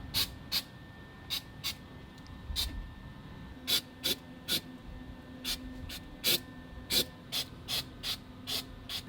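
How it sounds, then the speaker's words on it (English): Spray paint going onto vintage Porsche 911 air-conditioning parts in short, sharp hissing bursts, repeated irregularly about a dozen times over a low, quiet background. "and coat them with a bit of spray paint."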